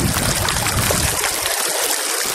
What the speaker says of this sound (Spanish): mucha roca, agua, miren cómo corre